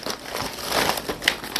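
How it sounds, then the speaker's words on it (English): A plastic quart-size freezer bag crinkles and rustles continuously up close, with sharper crackles as it is handled and folded. "This is a quart freezer bag."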